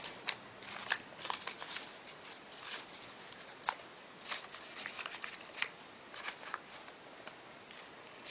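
Origami paper being folded into a box gives a run of soft, crisp rustles and light creasing taps, close and quiet, arriving in irregular bursts with no talking.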